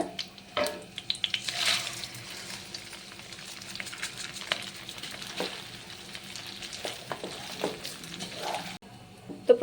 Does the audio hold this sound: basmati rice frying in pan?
yes